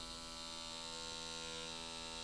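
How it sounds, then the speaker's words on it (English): A Stay-Lite tattoo machine powered at 5 volts gives a steady, close electric buzz with a constant hum and no pauses, running alone throughout. "Right now I am using the Stay-Lite tattoo machine running at 5 volts even."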